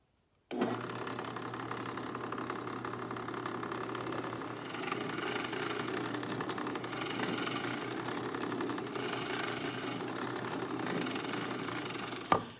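Drill boring bolt holes with a bit a 64th inch over 5/16 into a wooden board for a worktable sawmill, a steady continuous whir held for about twelve seconds, ending with a brief sharp knock.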